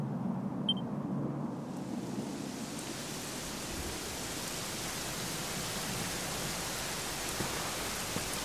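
Steady, dense rainfall in the video game Dragon Quest XI, hissing evenly across the whole clip, soft and continuous with no voices.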